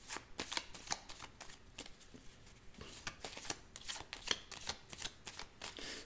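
An old Petit Lenormand card deck being shuffled and cut by hand, producing close, crisp bursts of riffling and flicking card sounds in an irregular rhythm with brief pauses, no voices.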